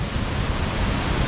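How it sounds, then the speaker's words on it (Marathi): A huge waterfall at Bhandardara thunders down with a broad, constant roaring rush of water, loud and steady with no voices. "पाणी कोसळतंय बघा ना, काय ताकद असेल त्या पाण्यामध्ये"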